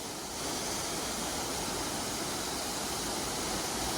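Long Creek Falls on the Appalachian Trail, a steady, loud, broadband roar of falling water heard up close, continuous and unbroken after a brief quieter start.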